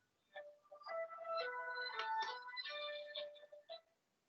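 A mobile phone ringtone sounds during an online class meeting: a bright, melodic electronic tune of repeating notes, moderately quiet and steady for about three seconds, with no talking over it.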